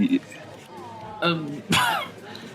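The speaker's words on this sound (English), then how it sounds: "It's just a bit of a cough." A couple of short, sharp coughs, close by, separated by brief pauses.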